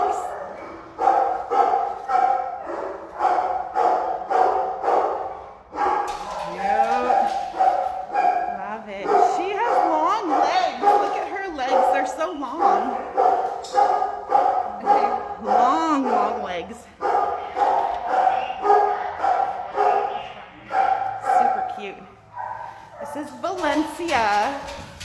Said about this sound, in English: This is Fox, a 5-month-old shepherd husky mix.